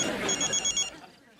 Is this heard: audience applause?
no